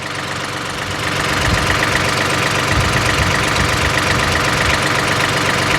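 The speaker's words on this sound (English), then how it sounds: "The tractor doesn't want to pull it." A tractor engine labours under heavy load in soggy ground, a steady loud rumble that rises and holds at a strained pitch while the wheels spin. There is no talk.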